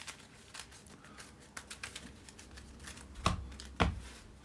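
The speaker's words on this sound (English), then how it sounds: "I'm just shuffling up this deck still" A deck of cards is shuffled during a tabletop wargame session, with soft irregular riffling and tapping clicks and two sharper knocks near the end, quiet and close with no talk.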